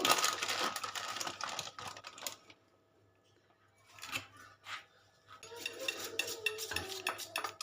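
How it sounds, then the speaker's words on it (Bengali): A spoon stirs flour into batter for a fruit patishapta, giving a run of quick scraping clicks against the bowl that stop for a couple of seconds in the middle and then return, close and fairly quiet. "একটুখানি ময়দা দিয়ে নিচ্ছি নিয়ে হালকা করে গুলে নিয়ে একটু গাঢ় বানিয়ে নেবো"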